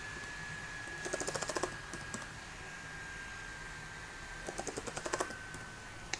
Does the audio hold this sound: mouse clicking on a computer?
yes